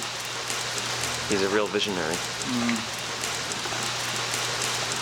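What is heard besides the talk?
rain falling outdoors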